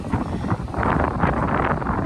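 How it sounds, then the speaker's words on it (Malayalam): Strong wind buffets the microphone at a high hilltop viewpoint during a monsoon outing in Vagamon, a steady close roaring rush with gusty swells and no voices. "നല്ല കാറ്റുണ്ട് കേട്ടോ, നല്ല കാറ്റ്."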